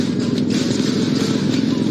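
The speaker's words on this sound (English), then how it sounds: "So they broached the idea of creating kind of specialized Cyberpunk 2077 version of the Arch Motorcycle" Arch motorcycle, Cyberpunk 2077 edition, its engine droning in a steady, close, low rumble with an even throb across a short stretch.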